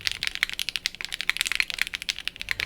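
Fast, steady typing on a custom VAS60R2 keyboard with stock KTT strawberry switches, sculpted polycarbonate plate, GMK Hammerhead Light keycaps and case foam, producing crisp, close clacks in a quick rhythm with no talk.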